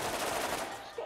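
Rapid gunfire from a weapon in the video game Borderlands rattles out in a dense, loud burst, with a voice faintly underneath.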